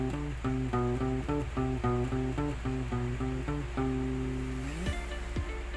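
Fingerstyle acoustic guitar bassline plucked alone, a steady run of clear, close low notes in a repeating rhythm, ending on a sliding note and a final pluck.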